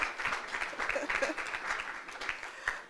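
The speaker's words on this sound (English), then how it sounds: "I think we can give him a little round of applause to warm him up." Faint applause from a conference audience, scattered claps forming a light, uneven patter heard from a distance at low volume.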